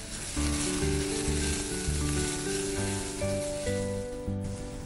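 Boiled potato being stirred into a spinach and fenugreek mixture in a pan, giving a steady hissing sizzle under continuous background music.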